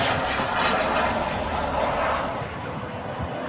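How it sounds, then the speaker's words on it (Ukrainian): A drone flying overhead during a strike, a broad droning engine hum passing at a moderate distance, steady and then fading slightly. "От летить дрон."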